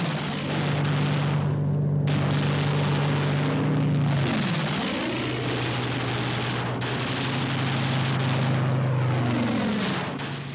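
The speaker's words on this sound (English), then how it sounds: "Fighter aircraft swooped down to destroy the enemy." A fighter aircraft swoops down in a 1945 US Army Air Forces air-ground attack over central Burma, its engine drone rising and falling in pitch as it passes, loud and unbroken over a roaring background.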